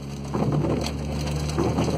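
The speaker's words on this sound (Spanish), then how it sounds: "Ahí está cayendo granizo." Hail falls during a storm near a tornado between Ayacucho and Balcarce in Buenos Aires province, a dense rattling patter of stones striking surfaces nearby, continuous and steady with no talking.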